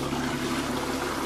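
Water rushes through an Ariston ceramic toilet bowl during a flush-force test, a loud, continuous churning gush heard up close without voices.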